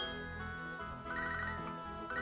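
An in-game phone rings in Pokémon SoulSilver, a bright electronic jingle of repeating chiming tones playing steadily and fairly quietly.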